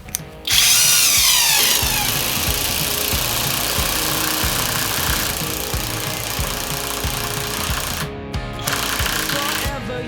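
Stromo cordless impact wrench driving an 8x100 screw, a loud continuous rapid hammering rattle with a high whine at the start, running steadily for about eight seconds with a brief pause near the end.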